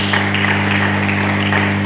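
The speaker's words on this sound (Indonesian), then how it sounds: "Mari kita berikan tepuk tangan bagi Yesus Kristus" Church congregation applauding during a sermon, a steady dense wash of many hands clapping together, loud and close, with a constant low hum underneath and no clear voice over it.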